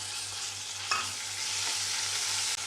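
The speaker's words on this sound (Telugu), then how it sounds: "చూడండి ఫ్రెష్ మసాలా అయితే బాగా ఫ్రై అయింది కదా" Ground masala frying in oil with browned onions for a village-style crab curry, a steady close sizzle with one brief stir sound partway through, no talk.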